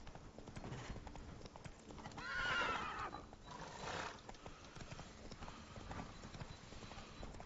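Horse hooves clip-clop steadily in The Witcher 3, with a horse's neigh rising briefly in the middle over quiet game ambience, and no talking.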